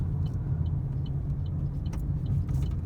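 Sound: car engine braking during a driving lesson

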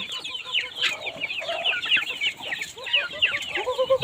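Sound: chickens clucking

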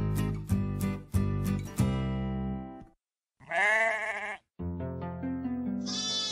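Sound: sheep bleating

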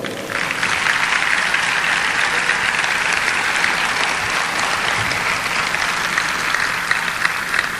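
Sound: audience applause

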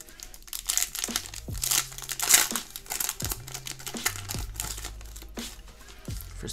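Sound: opening a trading card pack wrapper, crinkling

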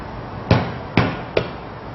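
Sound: pounding lemongrass to crush it

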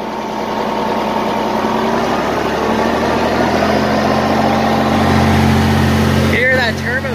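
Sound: Oliver 1855 tractor engine, turbo spooling up

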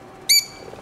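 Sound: lovebird calling

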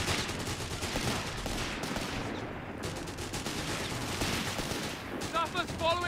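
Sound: gunfire in video game Company of Heroes 3

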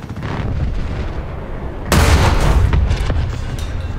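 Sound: tank cannon firing kinetic rounds in video game War Thunder

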